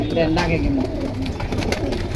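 Pigeons at a pigeon sale in Kalindi, Keraniganj coo nearby in soft, repeated low burbles, with a voice talking over them and steady background noise.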